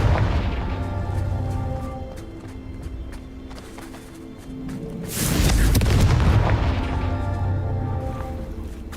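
A spell explosion from the Hogwarts Legacy video game erupts in a loud, deep boom midway through, over a quieter ambient game soundscape of low rumbles and tones.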